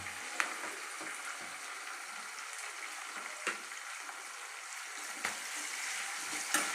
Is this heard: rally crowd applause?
no